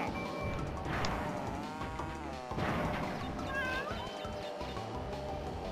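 A cat meows in the video game Crash Team Racing, two drawn-out wavering calls around the first and fourth seconds over busy game noise and music.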